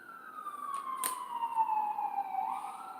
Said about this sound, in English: because that was the ambulance